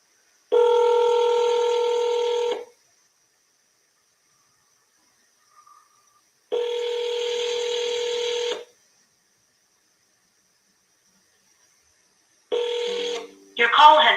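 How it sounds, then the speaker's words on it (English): Telephone dialing tones during an outgoing phone call, two long steady tone bursts separated by silence, followed by shorter broken tones near the end, clear and close. "we're going to double dial"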